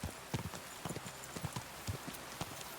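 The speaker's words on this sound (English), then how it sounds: "Why do I have to use a fucking horse in this game?" Horse hooves clip-clop in a quick, uneven rhythm of sharp knocks, close and fairly clear, with no voices over them, in the video game Kingdom Come: Deliverance II.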